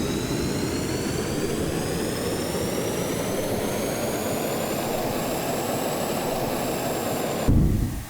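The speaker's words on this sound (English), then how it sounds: "23 RPS. That's on max throttle right now." Engine in the Stormworks: Build and Rescue game running at maximum throttle, a loud, steady roar with a high whine on top, holding constant for about seven seconds before a brief louder burst and a cutoff at the end.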